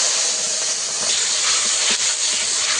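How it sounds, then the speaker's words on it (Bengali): Ground tomato paste sizzling in hot oil with nigella seeds, making a steady, close, loud hiss that runs evenly throughout with slight swells, no voices. "ফোড়নে দেব কালো জিরে, বেটে রাখা টমেটো দিয়ে দেব।"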